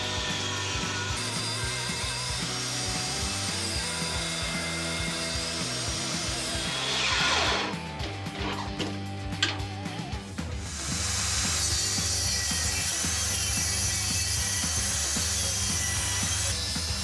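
A power tool mills wood trim for a homebuilt catamaran with a loud, continuous whine and roar that holds steady throughout, briefly shifting and dipping in the middle before resuming.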